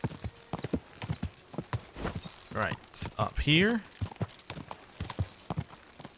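Horse hooves clip-clop in the video game Kingdom Come: Deliverance II, a steady close rhythm of sharp knocks running throughout, with a brief whinny midway and someone talking over the hoofbeats.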